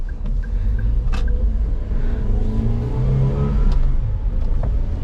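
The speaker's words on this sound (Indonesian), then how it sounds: "driving impression untuk Avanza yang 1300 cc Grand ini memang secara akselerasi nothing special ya" Engine of a 2016 Toyota Grand Avanza 1.3 G with manual transmission, a steady low rumble rising as the car accelerates, heard from inside the cabin with faint clicks and road noise and no talk.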